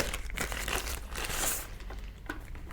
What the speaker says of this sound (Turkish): Poşetinden çıkartalım.